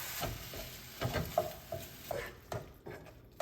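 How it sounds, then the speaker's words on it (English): 93% lean ground beef cooking in a skillet gives a quiet, soft sizzle broken by intermittent scraping and tapping from stirring, close by and fairly faint, with no voices. "go ahead and cook your meat until it's no longer pink in the middle"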